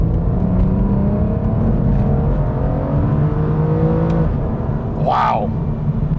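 The V12 of a 2008 Aston Martin DB9 coupe drones smoothly from inside the cabin, pitch gently rising as it pulls, with a brief sharp chirp near the end.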